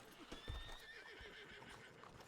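A horse in a Red Dead-based WildRP roleplay game whinnies amid clopping hooves, brief and fairly faint against background game ambience, with thin whistling tones above.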